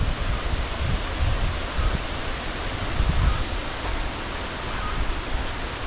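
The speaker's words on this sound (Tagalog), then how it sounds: "Malakas yung hangin oh." Strong wind roars and buffets continuously, with gusty low rumbles rising and falling.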